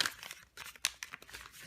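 Sheet of paper being folded into an origami crane, heard as soft close crinkling and crisp rustling in quick irregular bursts, faint and alone.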